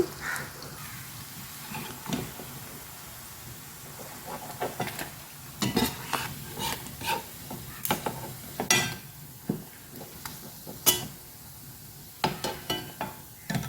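Fish fingers fry in hot oil with a steady low crackle, broken by frequent sharp clinks and scrapes of utensils against the pan throughout.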